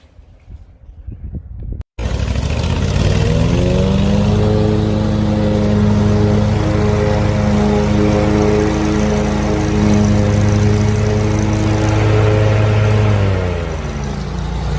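A lawn mower engine starts with a sharp burst after a short quiet lead-in, then drones loud and steady over turf and a downspout pop-up emitter lid, its pitch shifting slightly before easing near the end.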